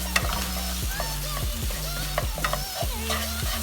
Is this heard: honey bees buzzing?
no